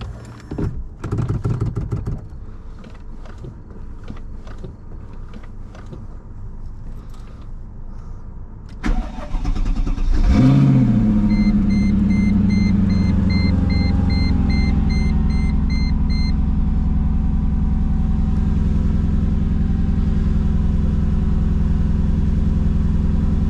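A manual Mercedes C55 AMG engine cranks and fires up in cold weather, then settles into a steady, loud idle rumble that continues to the end.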